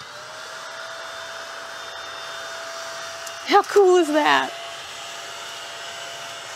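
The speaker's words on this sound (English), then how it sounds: "It's a vacuum cleaner for your work surface." A small USB rechargeable desktop vacuum cleaner runs steadily on a work surface, giving a thin, constant whine with a faint tonal hum. A person speaks briefly over it partway through.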